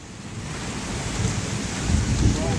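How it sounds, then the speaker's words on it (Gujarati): Heavy rain pours down on a farm where cattle stand outdoors, a dense roar with low thunder rumbling underneath that swells slightly toward the end. "વાવાઝોડું નહીં વરસાદ પડે છે અત્યારે"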